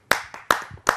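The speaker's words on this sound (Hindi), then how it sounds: "आप सबकी जोरदार तालियों।" Crisp hand claps from the audience at a Hindi kavi sammelan poetry gathering, three sharp close claps with a softer one between, brief and alone.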